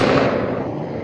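A single loud, booming burst from video game gunfire that rumbles and fades within about a second, with no voices over it.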